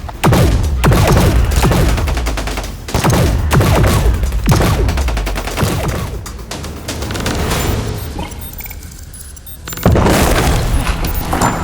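Heavy gunfire and booming blasts as a sound effect for soldiers in a sci-fi audio drama, loud and dense, with rolling explosions, a brief lull, then another strong burst.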